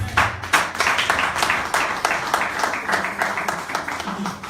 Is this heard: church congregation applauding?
yes